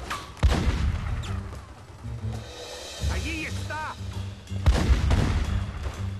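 Gunfire in The Godfather 2 video game: several sharp booming shots ring out among game sounds and music, with a player talking over the action.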